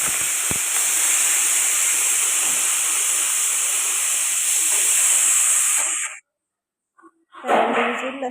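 A pressure cooker cooking chicken curry on a stove vents steam in a loud, continuous whistling hiss for about six seconds, stops abruptly, then gives a shorter burst of hissing after a brief silence.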